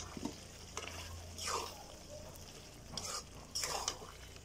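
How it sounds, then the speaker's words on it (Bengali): Meat stirred in hot spiced oil for khichuri gives a soft continuous sizzle, with a few louder scraping sweeps of the spoon against the pot at intervals. "গোশটা দিয়ে আমি এখন ভালো করে নাড়াচাড়া দিচ্ছি"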